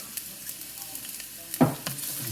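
Finely sliced garlic cloves and red pepper flakes sizzle softly in hot oil in a pan, with a steady faint crackle and a brief louder stir and hiss near the end.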